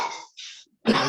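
A few short, rough coughs or throat-clearing bursts, close and fairly loud, separated by brief silences, at a men's church meeting.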